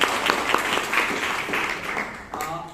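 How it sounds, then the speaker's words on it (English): Audience applause at a Bangalore Toastmasters meeting, a burst of many hands clapping fairly close and loud, easing slightly before a brief dip and a renewed flurry at the end. "Can we give a big round of applause for the"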